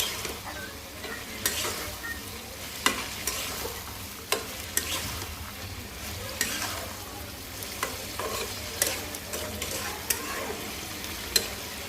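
Rohu fish curry with potato and tomato is stirred in a pan as it fries, giving a steady soft sizzle broken by repeated scraping and clinking strokes of a spoon at an irregular rhythm, close and moderately loud.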